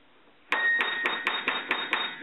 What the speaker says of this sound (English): I'm hammering at them quite quickly to get the sustain so you can hear the note